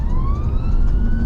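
An emergency vehicle siren during UK rush-hour traffic: a single steadily rising wail over a heavy low rumble of engines and road noise, moderately close.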